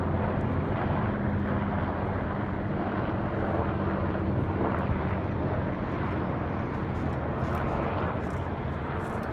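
Military helicopters flying low over a residential neighborhood and house make a steady, broad, droning roar that stays constant throughout, with no talk.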